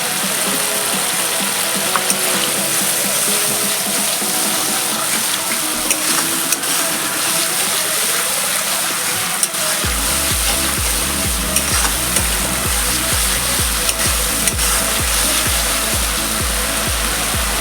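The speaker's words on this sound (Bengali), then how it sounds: "বন্ধুরা, এই যে বাটি ধোয়া জলটা" Water from rinsing a bowl is poured into a pan of Bengali bhola fish curry, bringing a loud sizzle, followed by steady stirring and scraping with a rhythmic mechanical rattle in the later half.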